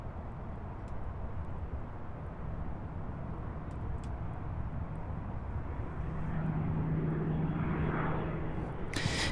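A fixed-wing aircraft on visual approach to runway 35 left at Louisville's SDF airport, likely a UPS heavy freighter, gives a steady engine roar at a distance that swells slightly louder toward the end.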